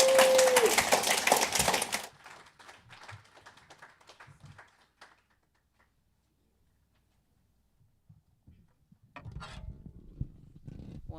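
Audience applause at a live-broadcast foundation event on a Massachusetts rental voucher program, a loud dense burst of clapping for about two seconds that quickly thins and fades to near silence before a voice returns.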